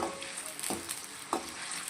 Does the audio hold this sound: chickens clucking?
no